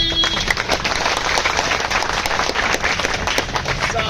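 A gathered crowd at a meeting about a public service commission dispute breaks into loud, close, energetic clapping, a dense unbroken roar of hands with sharp cracks standing out throughout.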